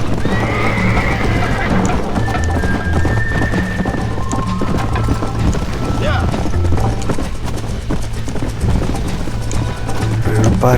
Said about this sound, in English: Se cansa el caballo.